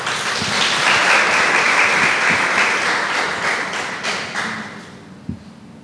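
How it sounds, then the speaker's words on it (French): Audience applause for a guest speaker in a hall, loud sustained clapping that gradually thins and fades, ending with a few scattered claps and a single thump. "pour moi ça s'applaudit"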